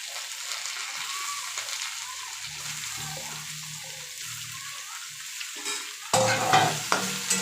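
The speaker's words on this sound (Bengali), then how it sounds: "এবার সোয়াবিনগুলো আমি এর মধ্যে দিয়ে একটু হালকা ফ্রাই করে নিই।" Soybean chunks lightly fry alongside fried potatoes in a pan and are stirred through. A soft, steady sizzle comes with scraping stir strokes, and the frying grows louder and busier near the end.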